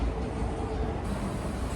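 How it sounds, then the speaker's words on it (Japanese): A Nankai local train arrives at Kizugawa station in Osaka at night, a faint, steady rolling rumble of wheels and motors drawing in without voices. "岸の里玉出行きの普通電車がやってきました"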